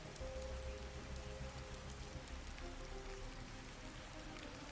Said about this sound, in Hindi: बारिश पूरी रात होती रही।